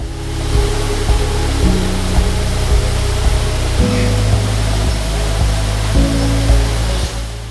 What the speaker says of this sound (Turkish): Manavgat Şelalesi, Manavgat Nehri üzerinde oluşmuş bir şelale.